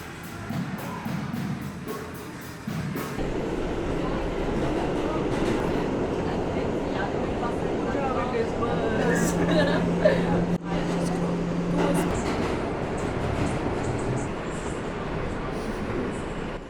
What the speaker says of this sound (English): Back to the subway